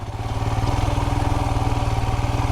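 A Royal Enfield Himalayan motorcycle rides in second gear carrying a pillion passenger, its single-cylinder engine thumping in a fast, steady, loud rhythm close to the microphone.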